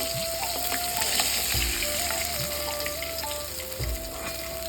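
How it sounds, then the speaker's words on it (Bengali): Bata fish fry in hot oil, crisped well, with a steady close sizzle and crackle broken by a couple of low thumps as pieces are moved, alone with no voices. "আমি খুব একটা কড়া করে মাছটা ভাজছিলাম।"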